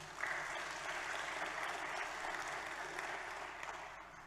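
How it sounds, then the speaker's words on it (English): Audience applause at a Holocaust memorial day ceremony at the Kigali Genocide Memorial, a continuous faint wash of many hands clapping from a distance, steady throughout and tapering slightly at the close. "Don't be afraid to give another round of applause,"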